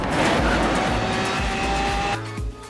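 Racing cars roar loudly in a Microsoft racing video game set on Australian roads, engines droning steadily with tires squealing through a drift before the engine note drops sharply near the end.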